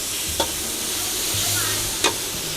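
Pork stir-frying in a pan for a Thai mixed stir-fry, a steady broadband sizzle with two short clanks of the spatula, close and alone with no voices.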